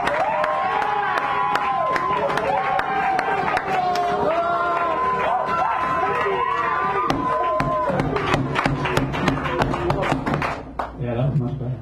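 A small crowd at a poetry reading in a San Francisco cafe cheers for a new poet, hooting and hollering loudly with whoops, whistles and claps, and voices shouting over the din throughout.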